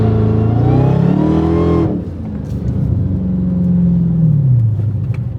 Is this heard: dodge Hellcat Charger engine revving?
yes